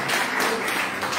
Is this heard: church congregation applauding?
yes